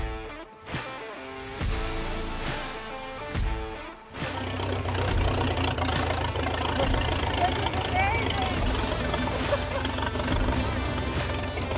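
A 1908 racing car engine is cranked a few times and then catches, settling into a loud, rough, steady running rumble heard close up from the cockpit.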